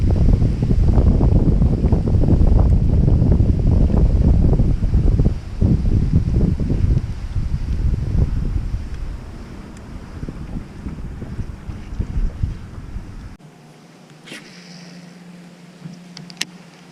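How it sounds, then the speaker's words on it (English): Wind gusting over a lake on a chilly autumn morning during bass fishing, a loud low rumble of buffeting wind against the microphone that eases off toward the end, leaving faint, quieter background noise. "It is a little windy."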